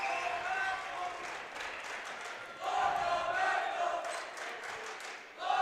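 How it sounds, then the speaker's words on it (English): Student section crowd at a WIAA girls basketball regional final between Stratford and Neillsville, a loud mass of cheering and yelling that swells in waves, with an announcer talking over it. "the student section is getting loud over there"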